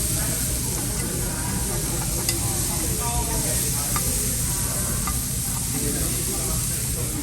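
Korean BBQ large and small intestines sizzling on a restaurant grill, a loud continuous hiss and crackle close up, with restaurant chatter and voices in the background.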